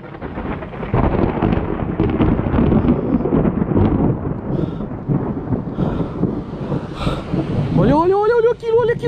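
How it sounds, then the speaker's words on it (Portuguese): Thunder rumbles through a lightning storm, heavy and continuous, mixed with wind buffeting the microphone and rain. A sharp higher-pitched tone rises near the end. "Olha o relâmpago, cara. Dá uma olhada nisso."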